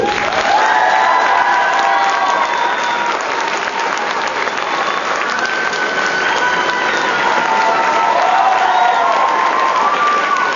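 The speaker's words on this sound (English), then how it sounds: "if I can have a massive round of applause for Paul McGillion" A large convention audience at Armageddon 2009 in Auckland gives a loud, continuous round of applause for actor Paul McGillion, with cheering and whistles mixed into the dense clapping.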